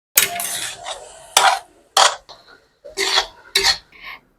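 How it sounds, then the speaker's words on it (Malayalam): A spatula scrapes and knocks against a metal pan as rice is mixed into prawn masala, in six loud, close strokes separated by brief pauses. "ഇതുപോലെ മസാല കളർ മാറുമ്പോൾ നമുക്ക് ചോറിട്ടൊന്ന് മിക്സ് ചെയ്യാം"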